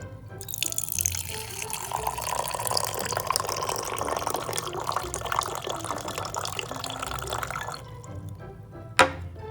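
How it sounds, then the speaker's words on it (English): Water poured into a container for a diffusion and osmosis biology lab, a continuous close splashing pour lasting most of the stretch before stopping, followed by a single sharp knock. "I'm going to add some water."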